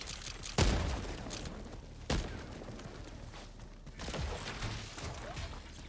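Grenade blasts in the shooter game Helldivers 2: two sharp, heavy booms about a second and a half apart, each trailing into rumble, followed by a softer rolling burst amid ongoing battle noise.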